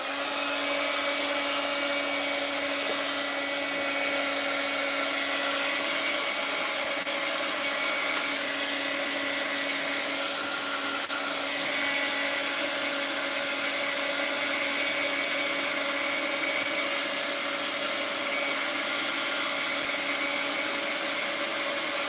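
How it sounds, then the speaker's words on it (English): A heat gun blows over a mixed-media art journal page with a loud, unbroken whirring hiss. A steady fan whine runs underneath for the whole stretch. "Let me hit it with the heat gun."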